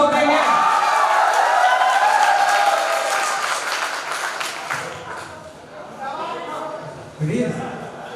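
Applause from an audience at a college event, J.K Institute of Applied Physics and Technology, loud and sustained through the first half, then easing off while voices carry on over a lighter crowd murmur.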